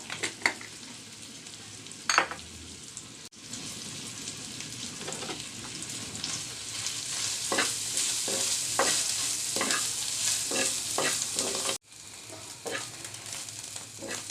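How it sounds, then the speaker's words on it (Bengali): Beef sizzles steadily in a hot pan, with occasional scraping stirs and clinks of a utensil against the metal. "এটা নাসুসের জন্য বিফটা ভাজা হয়ে গেছে"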